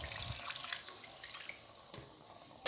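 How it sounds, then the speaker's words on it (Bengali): Hot water is poured into a pan of potato curry, giving a faint, close splashing and trickling that ends with a brief louder splash. "জলটা আমি গরম জলটা দিচ্ছি"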